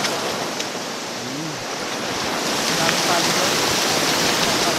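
River water rushing at a waterfall, a loud, continuous broadband roar that stays steady throughout, with faint voices buried underneath.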